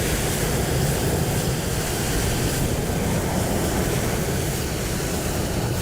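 Simulated four-engine airliner in Microsoft Flight Simulator 2020, a loud, steady broadband jet roar filling the whole stretch without letup, with no talk over it.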